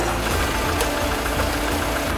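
A forklift holds a salvaged car engine during dismantling at a scrapyard, producing a dense, steady mechanical rumble and knocking vibration throughout.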